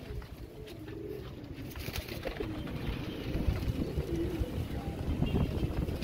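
Domestic pigeons coo softly amid steady outdoor wind and background rumble, the calls faint and partly masked throughout.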